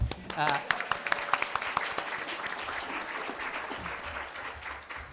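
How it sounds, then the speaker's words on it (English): Audience at a community conference applauding, a burst of clapping that starts with a few sharp claps, then settles into steady moderate applause with a voice briefly heard at the start. "Round of applause for Lissa."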